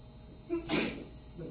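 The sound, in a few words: sneeze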